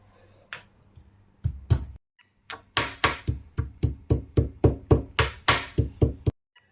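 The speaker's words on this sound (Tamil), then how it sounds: "பால் நல்லா கொதிக்கவும் 3 ஏலக்காய் போட்டு தட்டிக்கலாம்." Three green cardamom pods being pounded for milk tea: a couple of sharp trial taps, then a run of about a dozen evenly spaced, close knocks of a pestle, loud and alone before falling silent.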